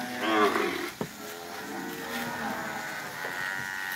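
A herd of cattle moos on the move, with several overlapping low, drawn-out calls from animals at moderate distance over a steady outdoor background.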